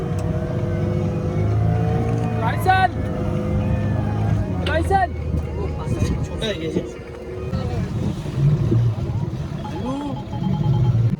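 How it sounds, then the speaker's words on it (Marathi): A motorboat pulls away from Malvan beach, its engine droning low under wind noise and passing chatter, with people talking loudly nearby over the motor. "आता बोट निघाली इकडून."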